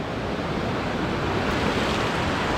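Ocean surf breaking on the beach at Surfside Beach, Texas, on an overcast morning: a steady, full wash of waves with constant broad roar and a little wind, close and continuous, with no voices.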